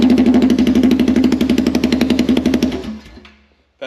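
A Polaris Sportsman 570 ATV engine running on open headers with no muffler revs loud and close in a rapid, choppy pulse for about three seconds, then cuts off and falls silent.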